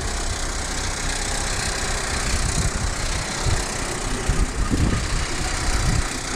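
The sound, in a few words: Fiat Panda 100hp engine running in gear, wheel spinning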